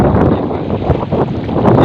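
A cold wind blows hard across a brimming dam reservoir, a loud, constant rushing roar buffeting the microphone throughout.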